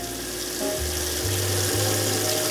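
Basmati rice being rinsed in water for a final wash, with steady running, sloshing water and a low rumbling hum throughout, loud and close with no talking.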